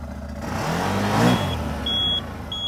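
Engine of a CFMOTO ATV with clutch problems, running loud and close, rising and falling in pitch as it revs, with a thin electronic beep toward the end.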